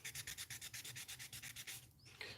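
Primer being sanded by hand off a part of a 1/60 NeoGrade Sazabi model kit: a close, steady rhythm of about fourteen brisk rubbing strokes, then a pause and a final lighter scrape.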